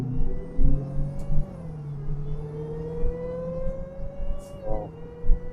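A 707 hp supercharged Dodge Hellcat with stock exhaust revs up with a loud, close engine drone. The pitch climbs, settles and then surges again in a short burst near the end, over a rumbling low end.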